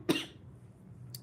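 A single short cough from a speaker with a cold, close to the mic, followed by quiet room tone and a faint click.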